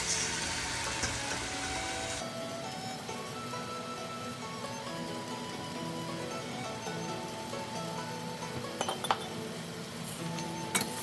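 Cooking wine and oyster sauce stirred into a Taiwanese braised pork hock in a pot, light clinks and scraping of a utensil against the cookware, close and fairly soft, with a few sharper taps near the end.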